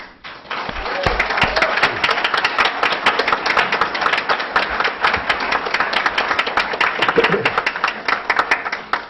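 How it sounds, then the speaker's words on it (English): A town council chamber fills with lively applause from a crowd, dense clapping building quickly and holding strong for several seconds, with some sharp individual claps and a few voices mixed in. "You got more applause than the preacher"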